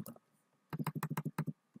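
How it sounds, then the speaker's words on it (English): Rapid burst of about a dozen crisp keystrokes on a computer keyboard, close and clear, following a brief isolated tap and a quiet pause. "you can simply start typing in here"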